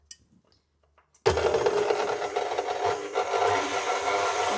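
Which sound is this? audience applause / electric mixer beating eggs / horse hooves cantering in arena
electric mixer beating eggs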